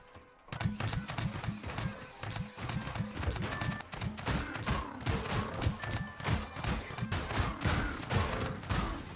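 A sentry gun in the survival video game Scrap Mechanic fires a rapid, rhythmic burst of punchy thuds that repeats steadily and loudly for most of the clip after a brief quiet start.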